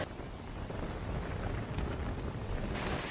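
Strong storm wind blows at the sea on the Jaffna coast, a steady loud roar of gusting air buffeting the microphone with no voices.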